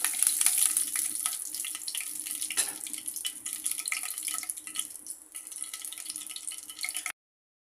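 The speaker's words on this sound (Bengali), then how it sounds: "কয়েকটা গা গরম মশলা সাত চামচ জিরা এখানে ভেজে নেব" Whole garam masala and cumin seeds fry in hot oil in a pan, giving a close, continuous crackling sizzle with small fluctuations and a brief scrape of stirring midway before it cuts off abruptly.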